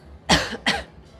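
Two sharp coughs from a person nearby, about a third of a second apart, with a faint third one trailing off, heard over a low background hum in a casino.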